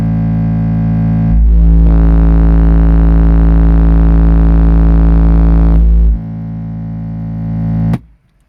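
A steady, very loud 55 Hz bass test tone from car audio subwoofers, driven by two Power Acoustik Vertigo VA1-10000D amplifiers at 0.5 ohm. It holds for about five seconds, rising from a lower hum and dropping back before cutting off abruptly.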